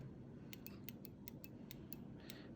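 Unidirectional bezel of a new, tight Seiko 5 Sports 42.5 mm dive watch being turned, with about a dozen crisp, faint, close-up clicks in an uneven sequence over quiet background.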